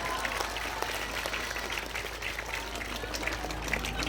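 Students at a school event applauding, a continuous spread of clapping at moderate distance, fairly quiet and steady throughout.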